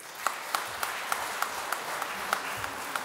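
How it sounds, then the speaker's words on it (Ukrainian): Presidential speech audience in Chernivtsi, Ukraine, applauding in a steady, fairly distant wash of clapping, with a sharp louder clap or knock standing out roughly every third of a second. "Ваші оплески ще раз."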